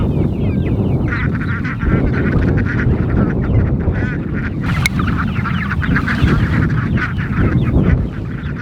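Ducks honk and quack steadily in a pool on a homestead, a dense, continuous chorus of close, loud calls layered over running water and background noise.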